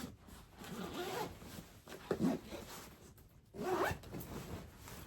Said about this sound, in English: Then we're going to zip it to make it smaller so it fits in the case